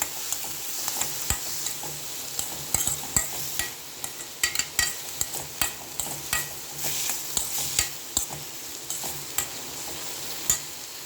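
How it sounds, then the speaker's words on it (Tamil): Green chilli and salt fry in a pan while a utensil stirs them, giving a steady sizzle broken by repeated sharp scraping clicks against the metal, close and fairly loud, with no talking. "இதை நல்லா இப்படி கிண்டிடுறோம்"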